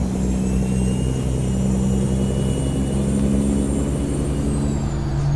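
A modded heavy truck engine in American Truck Simulator drones steadily and loudly, with a deep, continuous rumble that holds throughout, no talking over it.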